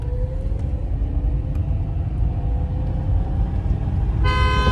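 A loud car horn honks briefly near the end, cutting through a constant low engine rumble of a moving Mercedes A200 limousine during a drag race.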